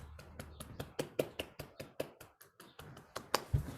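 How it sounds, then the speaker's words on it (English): Light, sparse applause for two presenters at a talk, a handful of separate hand claps that sound close and quiet, with no speech. "I think our two presenters deserve a round of applause"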